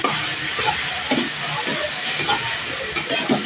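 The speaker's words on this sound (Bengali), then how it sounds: "এই প্রত্যেকটা মশলা দিয়ে ভালোভাবে কষিয়ে নিতে হবে।" Spices, among them coriander, black pepper powder and salt, sizzle steadily in a pan over a medium flame while a spoon scrapes and stirs them in repeated soft strokes, with no talking.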